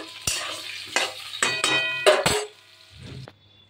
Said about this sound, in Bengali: এবার কিন্তু একটু নুন দিয়ে আলুগুলো একটু ভেজে নেব।